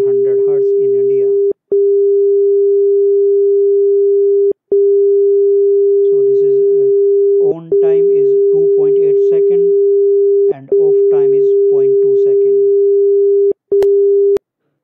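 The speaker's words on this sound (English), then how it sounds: "And the audio of this tone you can hear, this is also of 400 hertz in India." Steady 400 Hz telephone exchange tone of the kind used in India, a continuous hum interrupted by brief gaps every three seconds or so, with a voice talking over it throughout.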